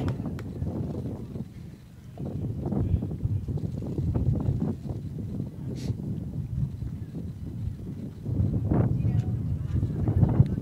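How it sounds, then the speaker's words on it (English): Steady wind gusting across a high school baseball field, a low rumbling buffet against the microphone that swells and fades, with faint voices in the background. "Wind picking up, and Gallagher steps off the mound."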